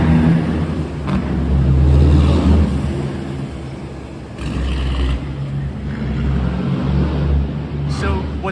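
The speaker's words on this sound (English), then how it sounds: "those trucks are loud" A loud truck rolls along a Midtown Manhattan street in the rain, its engine rumble rising and falling as it passes near, with steady traffic noise and someone talking over it.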